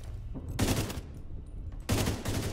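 Burst gunfire in The Division 2: two loud, close, clipped volleys of rapid shots, one near the start and another after a short pause, with no talking.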